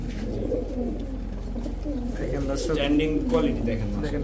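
Rampuri pigeons coo in low, throaty rolls at a busy Bangladeshi pigeon market, the calls steady and close amid a constant crowd murmur with people talking nearby.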